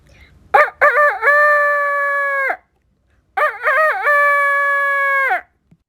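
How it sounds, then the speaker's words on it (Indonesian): Two loud, close rooster crows ring out one after the other, each rising through a stuttering start into a long held call, with a pause between. "itu suara ayam jago"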